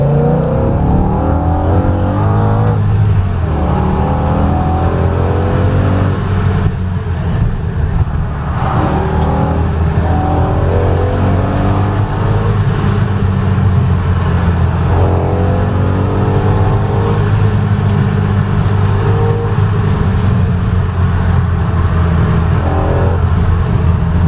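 A car engine runs and revs loudly while driving at a meet-up, a close continuous drone with rising and falling pitch and no talk over it.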